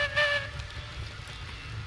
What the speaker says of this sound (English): Oh, blow the whistle.